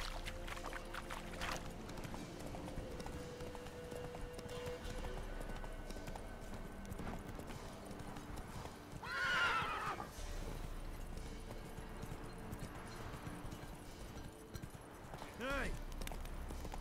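Roach, Geralt's horse in The Witcher 3, with hoofbeats throughout and a loud whinny near the middle plus a shorter neigh near the end, over game ambience and background voices.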